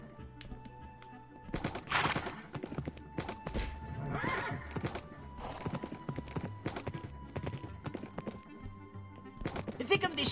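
Horse hooves clip-clopping in Minecraft, a run of steady game footfalls with occasional whinnies and neighs, heard alongside background game sounds and a talking voice.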